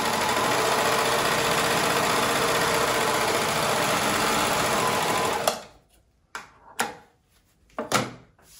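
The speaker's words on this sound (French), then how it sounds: "Je vais laisser maintenant la machine fonctionner toute seule." An overlocker serger runs fast and steady, stitching a rolled hem on cotton fabric, then stops, leaving a few short mechanical thumps and clicks.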